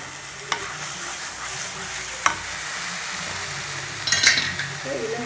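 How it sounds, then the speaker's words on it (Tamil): Tomatoes sauté in a pan for a paneer kurma and are stirred steadily. A soft, continuous sizzle runs throughout, broken by a few sharp spoon clinks against the pan. "இப்போ தக்காளி நல்லா வதங்கிடுச்சு"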